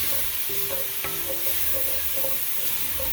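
Garlic sizzling in a pan for a glaze, a close, steady crackle with repeated stirring clinks and scrapes against the pan, with no voices over it.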